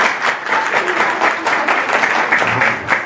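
An audience claps in a hall, a loud, continuous wash of many hands applauding at a steady level from start to finish.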